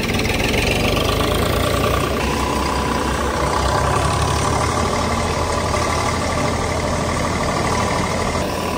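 Eicher 485 tractor engine running a Kamdhenu thresher, a loud, close, steady diesel drone with knocking texture that holds evenly throughout, with no speech.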